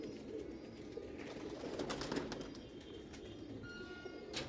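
Faint, continuous cooing rises from racing pigeons in a Mirpur loft, with a few soft fluttering sounds now and then and no talking.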